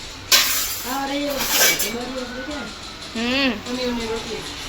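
Dishes clink and clatter as they are set down, while people talk over the sounds nearby.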